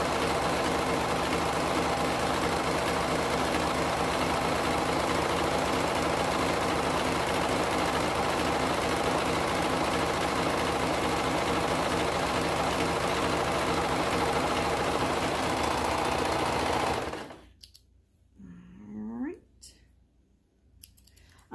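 A serger sews the curved edge of a toddler hoodie hood, its motor a loud, steady, dense whir running without a break for about seventeen seconds before stopping abruptly, after which a voice speaks briefly.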